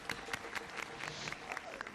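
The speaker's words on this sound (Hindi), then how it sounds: "मैं चाहूंगा कि जोरदार इनके तालियों के साथ स्वागत" Scattered clapping from a seated audience welcoming a school education minister at an official event, a few distinct hand claps in an uneven rhythm over a quiet, slightly reverberant room.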